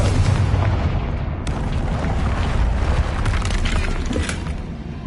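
A Confringo fire spell explodes in Hogwarts Legacy, a loud, booming blast with rumbling low end that keeps roaring and crackling throughout, dense and close without a clear pause.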